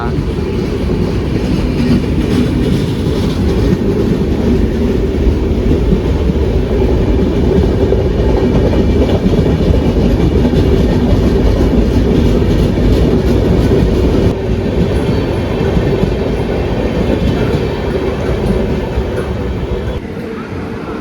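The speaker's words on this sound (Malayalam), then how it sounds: "ടാറ്റാനഗർ ഷെഡിൻ്റെ തന്നെ ഒരു WP7 ആയിരുന്നു അതിൻ്റെ ലോക്കോ." An Ernakulam-Tatanagar express hauled by a WP7 electric locomotive departs Thrissur station, a loud, close, continuous rumble of rolling wheels and carriages with rhythmic clatter over rail joints.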